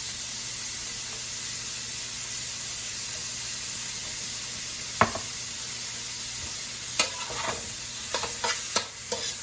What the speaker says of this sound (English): So yeah, just brown this. Make sure it's in crumbles.